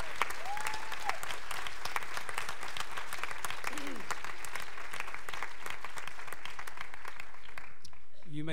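Church congregation at a Sunday pastor appreciation service clapping hard and continuously, a dense sustained roar of applause with some voices mixed in, fading near the end.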